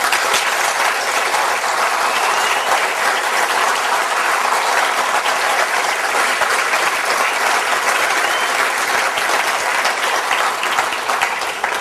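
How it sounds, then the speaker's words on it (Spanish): Audience applauding Bruce Quinn, recognized for his work at a Rubén Blades event, a dense steady wash of many clapping hands sustained loud and even for about twelve seconds, with no voices. "para el cual pido un aplauso"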